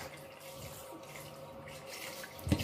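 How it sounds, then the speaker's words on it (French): Water runs from a tap into a cooking pot after a drop of olive oil, a soft steady trickle with a brief louder splash near the end, heard alone without speech. "je mets de l'eau."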